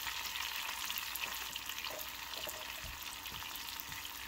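Garlic cooking in butter in a pan, a soft continuous sizzle with occasional stirring taps, quiet and close with no talking.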